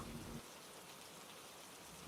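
Heavy, pounding rain pours down in a steady, even hiss, faint and distant, with a brief low rumble at the very start and no voices.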